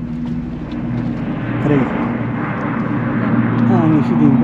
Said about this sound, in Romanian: Iar trec elicoptere.